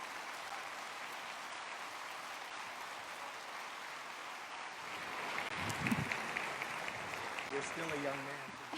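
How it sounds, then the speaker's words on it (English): An audience at the 2018 Parliament of the World's Religions applauds to welcome Onaubinisay (Jim Dumont), a dense, steady wash of clapping that lasts throughout and swells slightly, with a voice rising over it near the end. "So a big round of applause, a big rousing welcome to Onaubinisay,"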